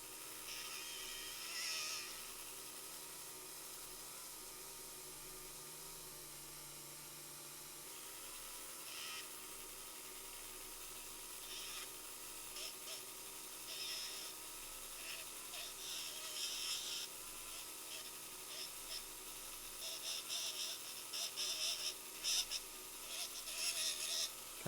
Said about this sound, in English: I'm going to Dremel a little more of this.